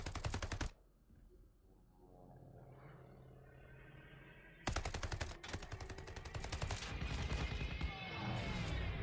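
Machine-gun fire aimed at enemy aircraft during a Call of Duty: Vanguard campaign mission set at Tobruk, a short loud burst opening, then a quieter stretch, then sustained rapid automatic fire with blasts continuing to the end.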